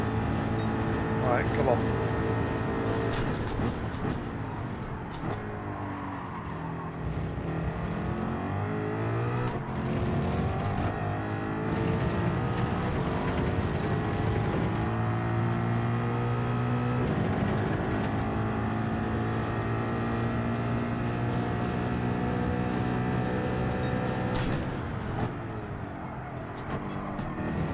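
A car's engine in Gran Turismo 7 revs hard and pulls away, climbing through several gears close and loud, while someone speaks briefly over it.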